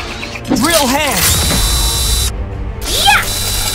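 Mechanical whirring and ratcheting clicks with rising and falling tones from a cartoon drill-hand weapon, layered over a busy, loud fight-scene background mix.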